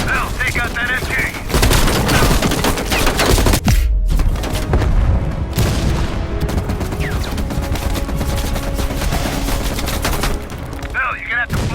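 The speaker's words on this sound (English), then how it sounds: "Bill, you're gonna have to flank that MG." Machine gun fire from the Call of Duty Black Ops Cold War video game, with loud sustained rattling bursts and booming blasts that fill the whole clip, plus game voices heard under the gunfire.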